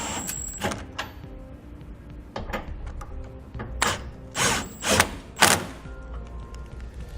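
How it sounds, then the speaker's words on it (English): A ratchet with a 21mm socket snugs up trailer hitch bolts under a 2018 Chevrolet Colorado, giving several short, sharp clicking bursts up close with pauses between them and no talking. "we're going to come back with our 21mm socket and we're just going to snug them up"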